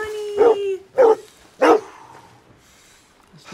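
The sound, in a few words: dog barking in video game Red Dead Redemption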